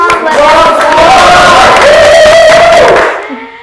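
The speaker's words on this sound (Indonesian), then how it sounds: "Ini dari Subang, tepuk tangan dulu dong." A crowd at a lively campus gathering of communication-studies students erupts in loud cheering, with whoops and voices over a wash of clapping that holds steady for about three seconds before fading quickly.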